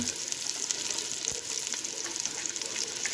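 Fish sizzling in a frying pan for a river fish curry, a steady bright crackle and hiss throughout at moderate loudness with no talk.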